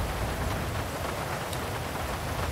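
Steady rain pours down in the GTA 5 game world, a dense, even hiss of drops on surfaces with no pauses, fairly loud and close, and no voices over it.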